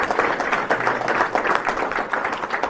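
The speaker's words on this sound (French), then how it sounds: "on peut les applaudir pour leur engagement" An audience at a village New Year's greetings gathering applauding volunteers, a short, steady burst of many hands clapping at a moderate distance with no talk over it.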